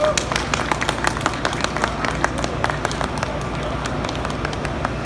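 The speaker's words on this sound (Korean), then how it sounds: "다시 한번 큰 박수 부탁드립니다" Indoor audience at a memorial gathering clapping steadily, a dense patter of many hands that is strongest at the start and continues evenly throughout.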